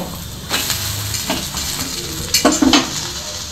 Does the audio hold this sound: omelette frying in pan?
yes